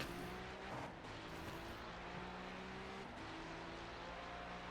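A video-game race car engine from iRacing's 24 Hours of Daytona whines at high revs, drawing closer with a steady buzzing drone over faint background engine hum, no voices.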